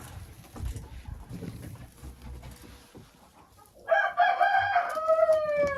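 White Leghorn laying hens in a backyard flock, with soft low rustling and scattered clucks at first, then loud, close, drawn-out tonal calls rising over the last two seconds.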